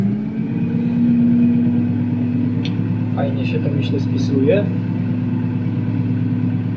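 A Kubota M6 Utility tractor engine chugs at a steady low idle and pulls away, rumbling close throughout while someone speaks briefly over it.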